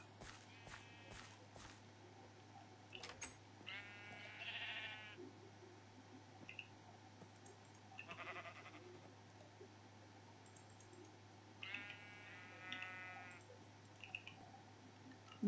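Minecraft sheep bleat faintly several times, spaced a few seconds apart, over quiet game ambience with soft clicky footstep sounds.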